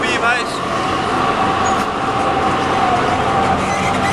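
A tram rolls past on a city street in Zürich, a steady loud rumble with rail noise filling the whole stretch while people talk nearby.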